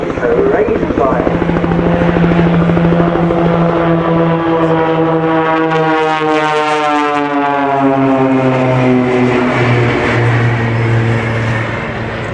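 Aerobatic display aircraft of The Blades team at Farnborough International Airshow 2012 produce a loud, droning engine note that sweeps in pitch as the planes pass overhead, sustained throughout.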